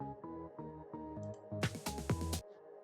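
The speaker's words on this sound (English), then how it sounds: "vocal pad that I made from repeating a phrase from the vocal, I paired it with the synth melody" A vocal pad built from a single repeated vocal phrase, paired with a synth melody, plays as a soft rhythmic loop of short pulses before a brighter, denser burst near the end and then a quick fade.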